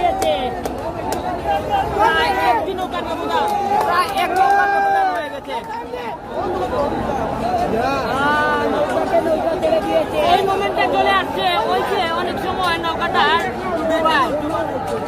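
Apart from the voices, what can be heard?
spectators cheering at Badaghat boat race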